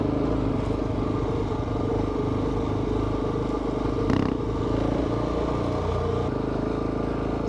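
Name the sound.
motorcycle riding with the clutch lever feathered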